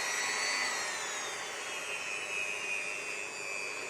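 A power drill runs continuously with a high, steady whine that shifts slightly in pitch, with no pauses.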